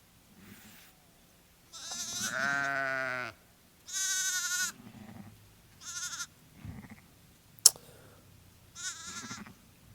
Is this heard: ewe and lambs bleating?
yes